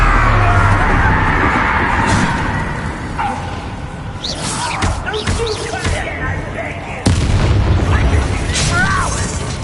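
Confringo spell explosions in the Hogwarts Legacy video game burst as repeated booms and pops, loud and close, amid magical whooshes and game effects, with a sharp blast near the end.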